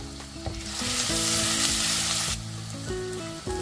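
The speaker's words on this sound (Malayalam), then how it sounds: "ഒരു 6 അല്ലി വെളുത്തുള്ളി, ഒരു വലിയ കഷ്ണം ഇഞ്ചി ചതച്ചങ്ങ് ഇട്ട് കൊടുക്കാം." Crushed garlic and ginger dropped into hot oil in a pan for a Kerala fish curry, giving a loud, steady hiss and sizzle that swells after a second and then eases, with faint clinks and stirring beneath, no voices.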